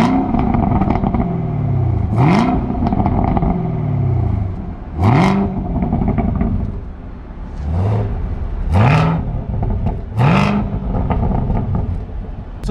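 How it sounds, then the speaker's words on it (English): A 2021 Chevrolet Camaro ZL1 1LE is revved repeatedly, about six sharp throttle blips rising from a rumbling idle, loud and close, with no talking. "we will get you an exhaust note in a second."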